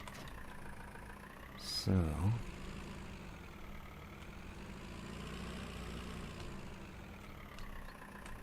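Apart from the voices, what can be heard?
tractor engine idling, from video game Farming Simulator 19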